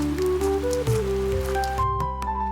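Rain falls in a steady soft patter beneath a gentle melodic music bed, with no voices during the short stretch.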